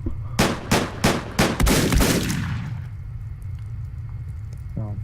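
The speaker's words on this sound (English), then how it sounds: "I accidentally shot twice with the shotgun" Rapid gunfire in the video game Deadbolt, including a shotgun fired twice, comes as a burst of about six sharp loud shots in quick succession, then a fading rumbling tail and a quiet stretch.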